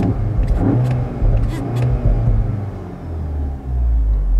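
A 2020 CUPRA Formentor 2.0 TSI 310 4Drive with DSG, switched into sport mode, its engine rumbling and revving up in low, throaty surges with amplified exhaust sound, heard close and alone without talk.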